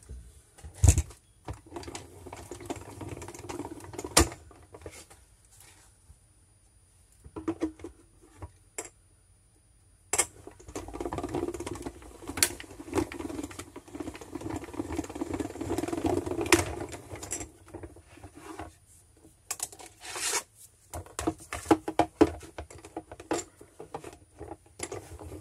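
Paper being cut along masking tape for a December journal page, an irregular run of crisp snips, scrapes and taps close by, with quiet pauses between bursts of handling.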